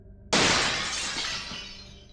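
A small glass window in a door shatters with one sudden loud crash, followed by a bright spray of breaking glass and tinkling shards that fade over about two seconds.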